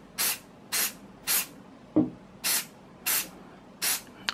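Plasti-Kote plastic primer aerosol sprayed onto a PLA 3D print in six short, even hissing bursts with brief pauses between, close and clear, plus one small knock in the middle.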